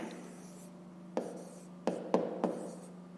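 A pen scratches across paper while someone works a fifth-grade maths exercise, making a few short, distinct strokes in a quiet room.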